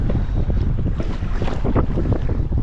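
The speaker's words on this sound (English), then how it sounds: "the wind is starting to pick up" Gusty wind blowing across choppy lake water while pedaling a kayak, a loud rumbling wind roar buffeting the microphone with splashing of small waves underneath.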